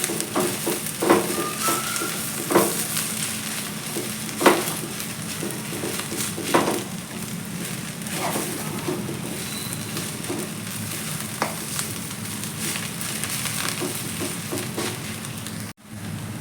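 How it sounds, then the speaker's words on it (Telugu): Amaranth leaves sizzling steadily in a pan, with soft scraping and stirring clinks at intervals, close and fairly quiet, no talk. "ఇలాగ మిక్స్ చేసుకుంటూ వేపేసుకోవాలి"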